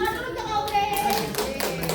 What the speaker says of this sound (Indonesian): Tepuk tangan dulu untuk Audrey.